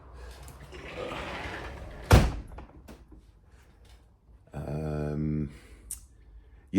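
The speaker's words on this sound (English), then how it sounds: "Hold on, I'm just going to close the door." An indoor door is pushed shut with one loud, sharp thud after a stretch of low background rumble. Quiet follows, then a brief voiced, tonal sound, then another short knock at the end.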